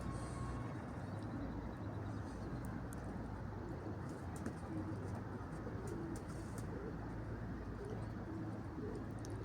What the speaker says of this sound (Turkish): Arap çapar. Çok güzel bir kuş arkadaşlar.